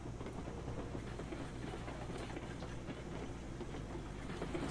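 Train rolling along rails in Railroads Online, heard while standing on the moving train: a steady low rumble with faint irregular clatter, continuous and fairly quiet.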